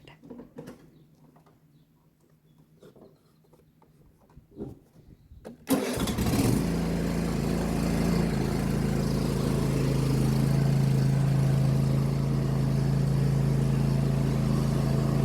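A car engine cranks and catches after some quiet handling noises, then settles into a steady, loud idle that runs close by to the end.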